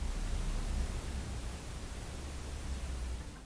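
A steady, broadband hiss of white noise runs throughout, even and unchanging with a low rumble underneath, no voices present.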